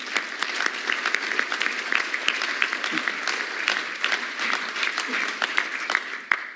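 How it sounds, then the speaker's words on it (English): An audience at a Maryland Historical Society lecture on World War I applauds a speaker, with steady, dense clapping filling the room at an even level throughout. "We can give him an applause now."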